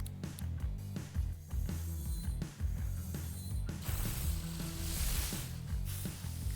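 Mechanical ratcheting and gear-like clicking from a cassette tape recording mechanism in the video game Cassette Beasts, steady and fairly close, layered over game music with a hissing spray-like swell toward the end.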